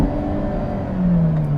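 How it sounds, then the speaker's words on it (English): A 2023 Hyundai Elantra N, turbo compact sedan in N mode, revs its exhaust in a steady, loud close-up drone whose pitch drops and settles, with no talk over it. "If I put it into sport here, that exhaust is freaking bonkers."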